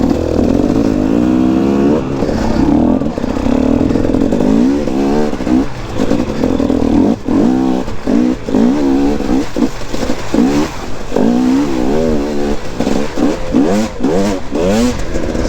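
Enduro motorcycle with a freshly fitted piston being run in, its engine revving loudly and continuously in rising and falling bursts with some clatter, close and alone for the whole stretch.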